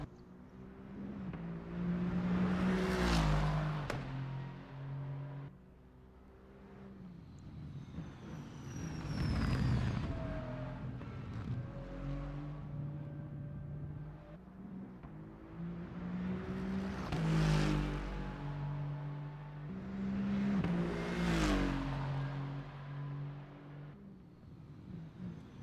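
GT3 race cars do donuts and circulate around the Zolder circuit. Engines rev and swell in several loud bursts with squealing tyre-like tones sweeping up and down between them, fading and returning over about twenty-five seconds.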